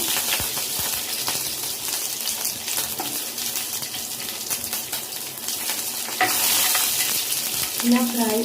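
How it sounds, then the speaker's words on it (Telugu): Curry leaves hit hot oil and fry with a loud, crackling sizzle that swells into a rushing hiss partway through, up close and without talk. "ఇలా ఫ్రై అయిన తర్వాత కర్రీ లీవ్స్ యాడ్ చేద్దాము."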